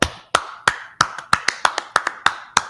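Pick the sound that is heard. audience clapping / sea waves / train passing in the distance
audience clapping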